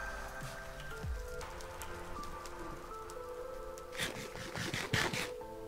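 Steady rain patters in the Crash Landing Minecraft server, a constant hiss with drops striking surfaces that swell louder toward the end.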